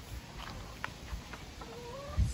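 Chickens at a country farm cluck softly in scattered short calls, with a faint drawn-out call near the end and a few low thumps, all fairly quiet and distant.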